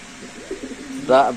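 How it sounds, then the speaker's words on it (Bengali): At a pigeon market, pigeons give soft cooing calls with one clearer coo at the end, heard close by over a low murmur of background noise. "এক জোড়া কবুতর দেখতে পাচ্ছেন আপনারা"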